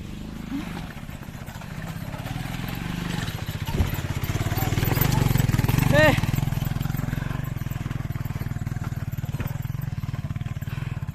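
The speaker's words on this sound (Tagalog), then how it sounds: "Hirap ang motor ko." Motorcycle engine droning and straining under load on a rocky mountain trail at Mt. San Isidro, Labrador, Pangasinan, rising in effort midway, close and steady, with someone speaking over it.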